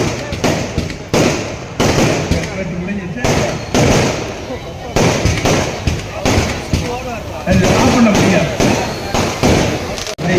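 Repeated sharp firecracker bursts crackle and pop in quick clusters at a political party public meeting in Gummidipoondi, loud and close, with a noisy crowd and talk underneath throughout.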